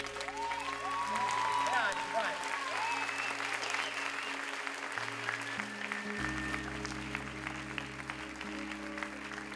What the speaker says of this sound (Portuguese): Pode aplaudir, irmão, vai.